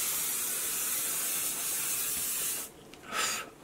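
A continuous fine spray of makeup setting spray hisses for a couple of seconds, then stops; a short second spritz follows after a brief pause.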